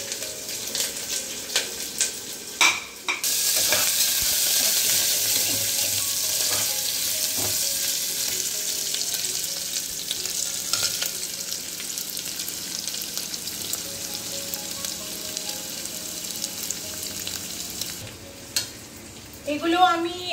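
Chicken pieces with whole garlic cloves and chopped ginger frying in a little oil, giving a steady close sizzle with occasional scraping stirs and clatter, briefly interrupted near the start and end.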